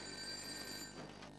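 A telephone rings at a police station, one sustained electronic trill, moderately loud and steady, with faint room noise and no talk over it.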